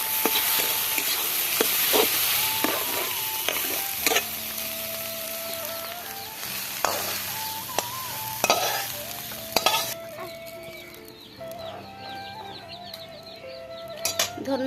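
Ash gourd and egg being stirred and fried in a pan, with a steady sizzle under repeated scraping strokes of a spatula, close and fairly loud, no talking.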